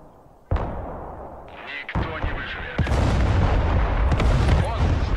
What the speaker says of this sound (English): He's got two sets of artillery up now